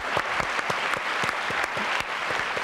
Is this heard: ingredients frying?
no